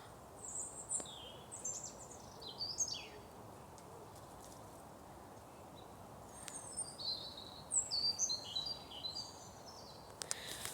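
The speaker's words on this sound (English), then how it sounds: "they've made like a bit of a bird sanctuary" Small birds chirp and twitter around bird feeders in an outdoor bird sanctuary. The scattered high calls come in short bursts over a quiet, faintly buzzing background that sounds a little distant.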